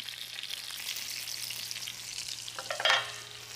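Trout frying in foaming butter in a pan, a soft, steady close-up sizzle with a brief louder scrape and spatter near the end.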